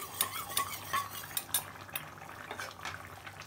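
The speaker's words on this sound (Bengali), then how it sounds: "এই যে এখানে আছে জিরার গুঁড়া আর গরম মশলার বাটা, একটু ঝোল নিয়ে একসাথে মিলাই দিই।" Cumin powder and garam masala paste being stirred into a curry gravy, with a spoon scraping and clinking against the pot in irregular strokes over a faint sizzle, close and alone.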